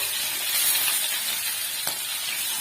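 Hilsa fish frying lightly in oil, a steady, even hiss, close and unbroken, with one faint tap partway through.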